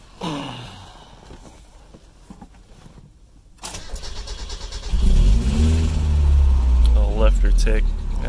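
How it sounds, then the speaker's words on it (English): A supercharged 1995 Mazda Miata engine cranks and catches, then settles into a loud, close, rumbling idle. Before the start, a voice and some handling noises are heard. "turn on the engine, pop the hood,"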